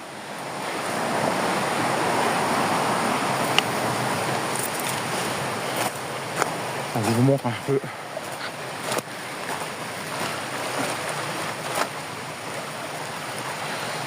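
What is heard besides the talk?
water flowing from small waterfalls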